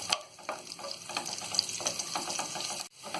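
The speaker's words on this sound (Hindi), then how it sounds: "लहसुन को भी हम हल्का गुलाबी होने तक भूनेंगे।" Chopped garlic sizzles and crackles in hot oil, frying until light pink, with occasional stirring scrapes, close up and moderately quiet.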